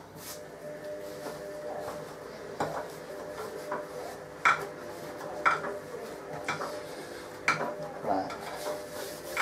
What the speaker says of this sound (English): Mix all the flour in.